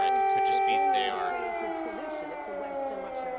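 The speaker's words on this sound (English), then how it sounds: "this is sounds coming from Kiev of our usual every morning air raid siren" An air raid siren wails steadily over Kyiv, a sustained rising and falling tone heard from a distance, with faint voices underneath.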